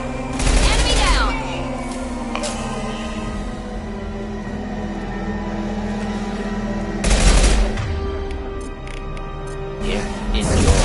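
Gunfire in the sci-fi shooter Mass Effect, heard as two loud bursts of rapid shots, one at the start and one near the seven-second mark, with a low droning hum and speech between them.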